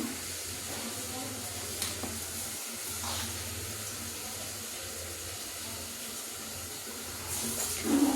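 Oil poured into a hot kadai sizzles with a steady, soft hiss throughout, ahead of cooking a vegetarian curry with bean pieces. The hiss swells slightly at the end.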